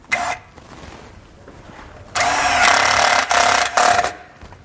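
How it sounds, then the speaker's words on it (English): A power driver sinks a self-tapping screw into the bottom of a 2020 Chevrolet frame: a short whir first, then a loud, sustained grinding whine for about two seconds with brief stops and restarts. "We'll use a 1/4 inch for the included self-tapping screw. And we're just going right here into the bottom of the frame."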